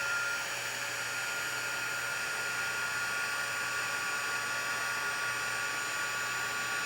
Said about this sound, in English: I'm just waiting for my gun to heat up a little bit.